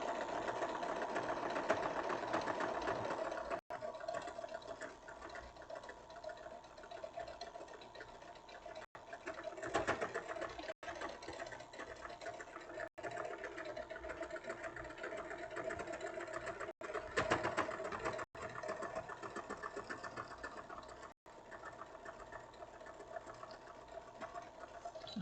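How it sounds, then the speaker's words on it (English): A sewing machine runs steadily through a satin stitch, its fast, even mechanical whir continuing close by for most of the stretch with a few brief pauses, and no voices. "And I'm creating that satin stitch."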